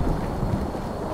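Horse hooves in the World War I shooter Battlefield 1: a brief, dull, rumbling patter of hoofbeats, low and muffled, with no talking.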